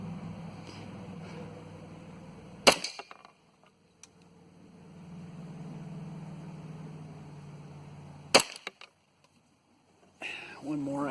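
Rifle shots from a Burris Fast Fire 3 red dot sight being sighted in at 25 yards, two loud sharp cracks several seconds apart with a third beginning at the end, over a low background rumble.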